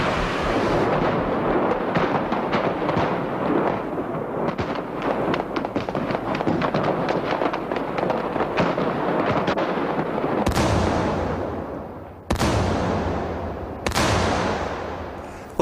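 Heavy gunfire and rocket-propelled grenade explosions during an attack on a motorcade, a loud continuous barrage of rapid shots with several booming blasts that ring out near the end.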